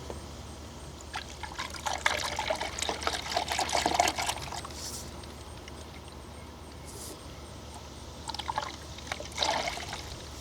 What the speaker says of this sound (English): Let's pour in the coolant now. Get it to its halfway mark.